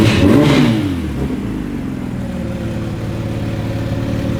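Turbocharged Porsche engine with a big turbo revs hard through its exhaust, a loud burst of throttle at the start that settles into a steady, rumbling idle-like drone for the remaining seconds, close and alone.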